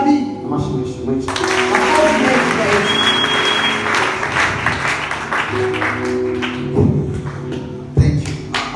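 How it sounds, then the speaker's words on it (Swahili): Applause for Jesus at a church service, as a congregation claps steadily for about eight seconds with a broad, dense wash of sound, some heavier thumps late on, and voices in the mix. "Makofi mengi kwa Yesu asante"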